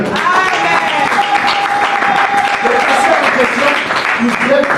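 A church congregation applauding during a French-language sermon, a steady wash of clapping with voices mixed in and a sustained tone running beneath it.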